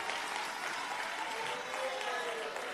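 Applause from the crowd at the ANC's 5th National General Council as the President speaks, a continuous wash of clapping with voices mixed in, fairly distant and even in level.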